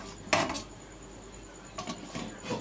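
A metal lid clanks onto a cooking pot on a stove, one sharp clatter followed later by a few lighter rattles as it settles, with no talking.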